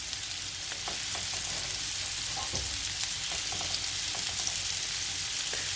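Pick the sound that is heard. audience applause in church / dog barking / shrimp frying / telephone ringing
shrimp frying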